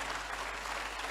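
Steady applause from an audience at an event honouring its organizers, dense even clapping filling the whole moment without voices over it.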